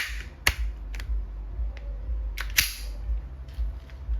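Umarex Glock 19X gas blowback airsoft pistol firing 5.95 g plastic balls: two sharp, loud reports about two seconds apart, each followed by fainter clicks and mechanical ticks over a low background hum.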